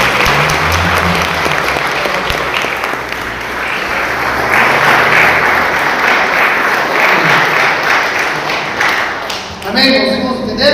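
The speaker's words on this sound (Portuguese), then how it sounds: "Você pode aplaudir o Senhor bem forte?" A church congregation at a Brazilian evening service claps loudly and continuously, a thick, close wall of applause lasting about ten seconds, with a brief dip and a sharper sound entering at the very end.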